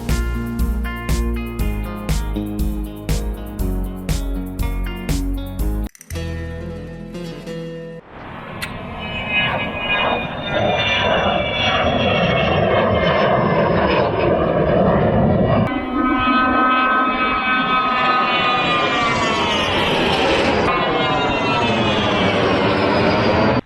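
A jet aircraft at a campsite beside Murcia airport roars overhead after a stretch of music, its engine noise building into a loud, sustained whine that shifts in pitch as it passes close by.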